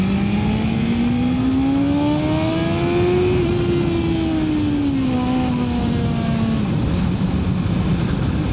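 A motorcycle engine winds up smoothly in one rising pull, pitch climbing steadily before easing off, loud and close throughout.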